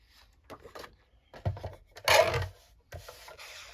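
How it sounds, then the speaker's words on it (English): Deckle-edge paper trimmer cutting a journalling card, a scraping, rasping pass with a loud burst in the middle, amid softer handling taps and rustles; close and fairly quiet. "I think I'm going to take my deckled edge trimmer and"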